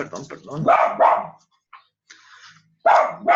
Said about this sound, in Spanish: Estos perritos míos.